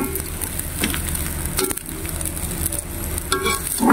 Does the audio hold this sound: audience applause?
no